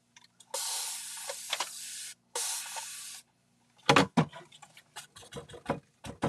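Spray paint hisses from a can onto fabric in short bursts, two long sprays followed by quicker spurts. Rattling and handling clatter come between them, heard close up.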